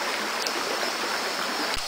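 Shallow upper Araguari River near its headwaters flowing steadily, a constant close rushing stream with no voices.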